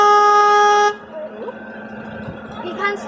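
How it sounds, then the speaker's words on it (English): A loud, steady car horn blares for almost a second at a scarecrow festival, then cuts off, leaving low rumbling background noise with faint murmuring voices. "So press the horn."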